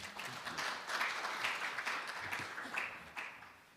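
A dense, even wash of audience clapping fills a Korean new-technology certification forum hall as the next presenter is welcomed, moderately distant and somewhat faint, continuing steadily without speech.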